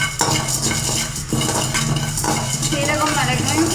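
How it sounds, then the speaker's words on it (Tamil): Cumin and black pepper dry-roasting in a pan for kadai masala powder, stirred with a utensil that scrapes and clinks steadily against the metal, close and continuous, with a faint hum of talk underneath. "சீரகம் மிளகையும் நம்ம நல்லா வறுத்து எடுத்துடலாம்."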